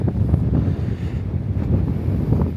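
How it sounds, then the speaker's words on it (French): Strong wind gusts buffet the microphone at a low-tide shore where people go shellfish gathering, a steady loud roaring rumble with faint surf beneath, and no talking. "Je sais pas si vous allez m'entendre avec le vent"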